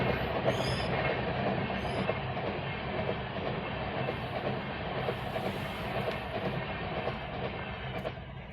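A train rumbles past close by at a railway crossing in a steady, continuous roar with rattling wheels and a faint squeal, no voices.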